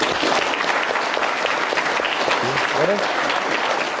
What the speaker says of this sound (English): So yes, a round of applause for Mr. Warnock.